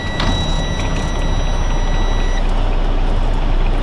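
A truck idles loud and steady, its engine rumble filling the low end throughout, with a few high-pitched beeps in the first two and a half seconds, before a Class A air brake test.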